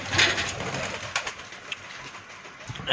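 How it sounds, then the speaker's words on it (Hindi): Pigeons cooing softly against open outdoor ambience, with a few faint clicks and rustles scattered throughout, as a pigeon drinks water. "ये कबूतर पानी पी रहा है"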